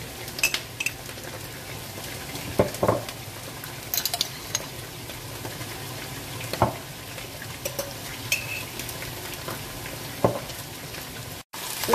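Garlic and ginger sautéing in a pan for chicken biryani, with steady low sizzling and frying under scattered clinks and scrapes of a utensil stirring against the pan, and no talk.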